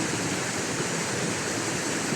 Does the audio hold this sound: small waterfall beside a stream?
yes